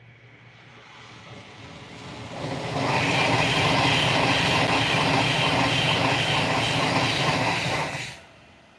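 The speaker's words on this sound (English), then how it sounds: "Looks like there's a Pendolino coming, I think." A Pendolino train rushes past, building from a distant rumble to a loud, sustained roar with rhythmic wheel clatter and hiss for about five seconds, then cutting off sharply and fading.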